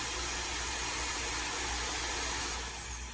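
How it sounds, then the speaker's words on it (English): A KaringBee portable hair dryer blows with a steady, close, loud airy roar, its pitch dipping slightly near the end as the mode switches. "I love this hair dryer."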